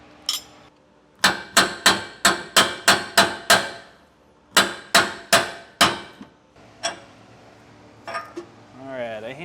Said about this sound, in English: I hammered that center one out enough to where I could just pull it straight out